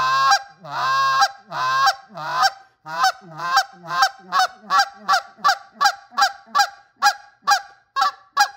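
A goose call is blown in a calling lesson, starting with a few long, loud honks and then breaking into quicker clucks and a fast, steady run of sharp clucks, close and alone with no talk.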